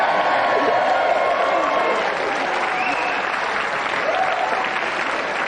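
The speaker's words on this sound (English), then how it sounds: "give a round of applause again" Studio audience at the 1992 GamesMaster TV game show applauds loudly and continuously with scattered cheering, a dense, even wash of clapping.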